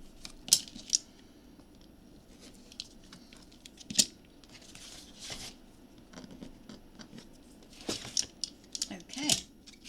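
Scissors trimming paper for a handmade memory book, giving several crisp snipping cuts spaced irregularly, close up, with a person talking softly in between.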